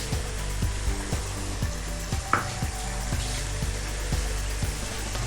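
Ginger paste fries steadily with garlic and onion in a pan, a close, even hiss and sizzle with a faint rhythmic ticking underneath and one brief clink midway, no voices.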